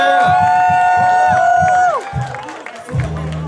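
Crowd at a hip-hop concert in a hall, shouting and cheering over a sustained musical tone that drops off midway, followed by scattered whoops and noise from the audience.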